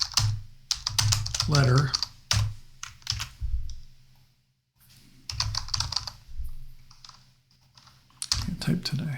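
Computer keyboard typing in close bursts of rapid clicks, alternating with a person talking.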